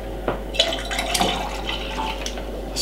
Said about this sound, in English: Let's pour it a little bit more.